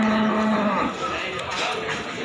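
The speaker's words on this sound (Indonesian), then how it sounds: "Ini di depan saya punya sapi-sapi bakalan." A cow lows loudly and close by at a quiet early-morning cattle market in Pati, with Pegon and Limousin feeder cattle present, the moo fading into a low, rumbling background of livestock and faint activity.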